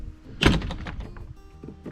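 A boathouse door swings shut with a firm wooden thunk and a rattle of its latch, followed by a few fainter knocks as it settles.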